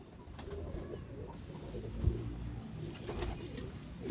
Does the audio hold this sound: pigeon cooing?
yes